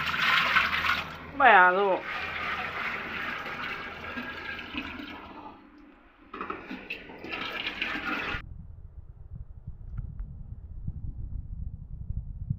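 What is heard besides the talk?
pouring cold water into a pot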